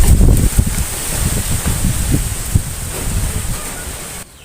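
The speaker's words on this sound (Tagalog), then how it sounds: "dito sa amin malakas po yung hangin at yan, medyo maingay po" Strong outdoor wind buffets the microphone with a steady, loud rumble and low gusty thumps for about four seconds, easing slightly before cutting off near the end.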